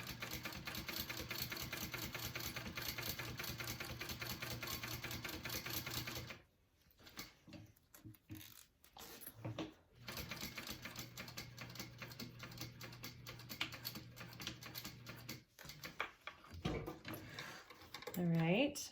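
A sewing machine stitches a row along the bottom of a wristlet pocket in a steady mechanical whir, stopping and starting twice, with a brief higher squeak near the end.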